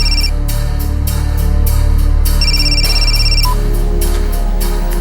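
A telephone rings in repeated bursts over a steady low hum, the electronic tone cycling on and off several times.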